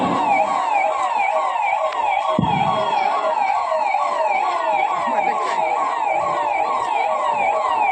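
An ambulance siren wails continuously in a rapid rising-and-falling pattern, loud and close, with a brief thump partway through, arriving at a mock emergency drill at a stadium in Shivamogga.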